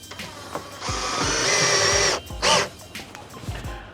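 A power drill drives screws into the front lip of a Nissan 370Z, whirring in a couple of close, loud bursts separated by brief pauses and light clicks.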